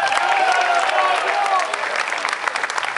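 Sustained applause from a crowd at a Schützenfest honoring the festival king, dense steady clapping with cheering voices mixed in, loud at first and easing slightly toward the end.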